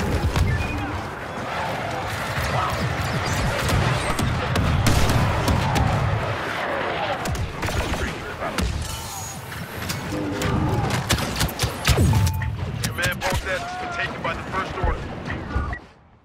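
Grenade blast and rapid gunfire in a Star Wars Battlefront 2 battle, a dense, loud, continuous barrage of shots and explosions with voices shouting over it.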